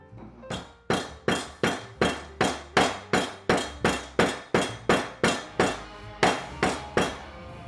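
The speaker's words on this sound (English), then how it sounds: "I used a hammer and a cloth." Regular, heavy hammer blows crush peppercorns wrapped in a cloth, striking a hard surface about twice a second, close and loud, each thud followed by a short ringing decay.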